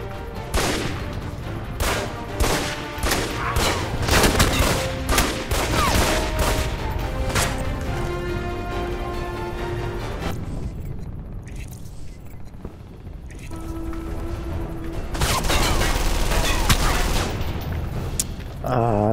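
Gunfire in the video game Alpha Protocol crackles in dense, rapid volleys with booms and scrapes, easing into a quieter stretch before another burst near the end, mixed with game sounds and some talk.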